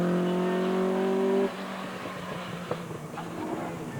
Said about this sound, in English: Wonderful noise of twin cam Escort.